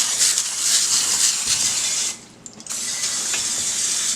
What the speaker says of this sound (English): spray our pan so our noodles won't stick to the pan.